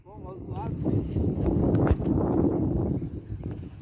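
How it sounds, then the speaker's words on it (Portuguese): Strong wind gusts roar across the microphone in a loud, continuous broadband rumble that swells and eases over a few seconds, with faint speech-like sounds mixed in. "Começou os ventos, ó. Balançando mais que a peste."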